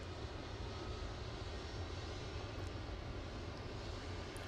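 Jet2 Airbus A321neo lining up for departure at Manchester Airport, its jet engines giving a steady, fairly faint broadband rumble that holds evenly throughout with no voices.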